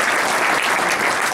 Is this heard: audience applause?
yes